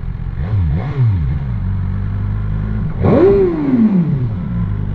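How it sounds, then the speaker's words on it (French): A BMW S1000R inline-four roadster engine revs up and down, its rising and falling whine swelling as it passes close by. It stands alone without talk. "On connaît bien le son d'un 4 en ligne, c'est bien, c'est chouette."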